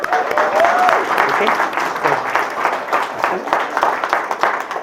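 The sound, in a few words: applause for the ring bearers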